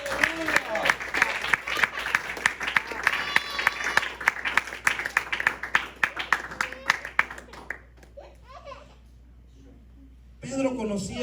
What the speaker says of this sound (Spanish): Dale ese fuerte aplauso a Jesús,